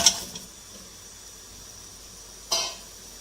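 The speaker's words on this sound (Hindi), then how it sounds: "इनको हम अच्छी तरह भूनेंगे" Mutton trotters frying in a yogurt gravy give a soft, steady sizzle close by, with a brief clatter at the start and another burst of stirring noise near the end.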